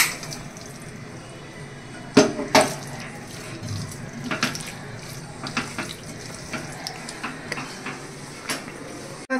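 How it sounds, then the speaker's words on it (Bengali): Boiled pasta tipped into a pan with a wet, watery rush, followed by scattered clatters of utensils and cookware. The sound is close and moderately loud, with no talking. "এবার সেদ্ধ করা পাস্তাটা এবার ঢেলে দেবো।"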